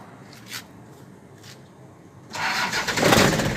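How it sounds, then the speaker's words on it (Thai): After faint background noise, the engine of a 1996 Toyota Mighty-X pickup truck starts and settles into a rough, steady idle that grows louder. "มาฟังเสียงเครื่องกัน"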